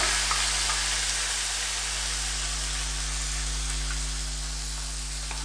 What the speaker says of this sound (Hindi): अब मैं इसमें ये प्याज और लहसुन का पेस्ट जो बनाया था ये मैं इसमें डालूँगी